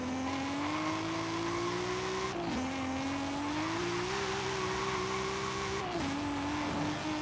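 Toyota engine in Forza Horizon 5 revving hard under acceleration, a steady rising tone that dips sharply at two gear shifts, then climbs again; loud and continuous with no talking.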